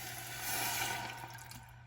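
Water pours into a cooking pan holding a chicken bouillon cube and garlic, about half a cup, a steady close splashing rush that swells midway and cuts off abruptly near the end, with no talk.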